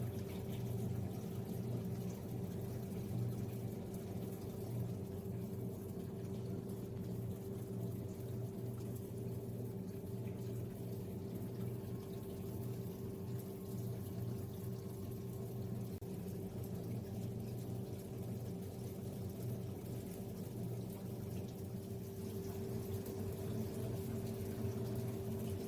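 Water flows steadily from an orifice as a free jet in a fluid mechanics lab experiment, a continuous even rushing and splashing that holds constant throughout with no talking.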